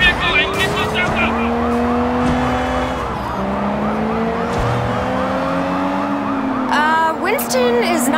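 A police siren wails in a video game, its rising and falling tone looping continuously over a car engine's drone, with a brief sharper yelp near the end and voices speaking over the scene.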